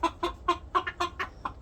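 Habahib, Fayoumi and Baladi chickens cluck close by in a quick run of about eight short, even calls, loud and clear with no talk.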